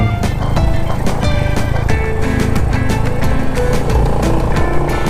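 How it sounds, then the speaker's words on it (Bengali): A motorcycle riding through a wide mountain valley on the road from Chumthang to Gurudongmar, a loud close engine drone with a steady throbbing hum and shifting pitch, continuous throughout. "এত বড় ভ্যালি, তার মাঝখান দিয়ে বাইক চালিয়ে যাচ্ছি"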